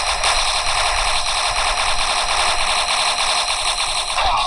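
A gold minigun fires continuously in a video game, a dense, loud, unbroken rattling burst that fills the whole stretch without pause.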